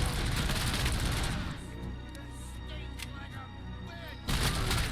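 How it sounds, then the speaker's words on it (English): Bursts of small arms gunfire in a first-person shooter game, loud and dense at the start and again at the end, with a quieter rumbling stretch between. "try to not keep taking small arms fire"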